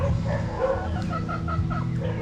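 Boston Gold gamefowl chickens clucking and murmuring steadily at close range in a rooster farm yard, with soft overlapping calls and no talking.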